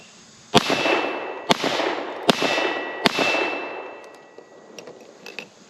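Four sharp, loud shots from a Keltec PR57 pistol ring out about a second apart outdoors, each with a metallic clang and decaying echo, followed by a few fainter clinks.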